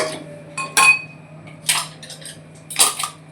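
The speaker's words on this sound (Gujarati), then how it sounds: "હવે કુકર વાખી દઈશું" A pressure cooker lid is shut in a home kitchen while ragda is cooked, giving three sharp metallic clanks and clinks about a second apart, close by, with no talk.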